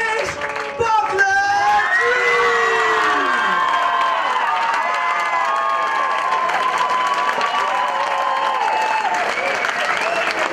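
A crowd applauds, cheers and whoops loudly for the winning school band at a band competition final, a dense sustained roar with shouts rising over it.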